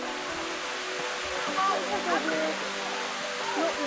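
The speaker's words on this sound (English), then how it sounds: "there's a sticky waterfall here which you can climb at" The Sticky Waterfall near Chiang Mai rushes in a steady broadband wash of falling water, with people talking over it.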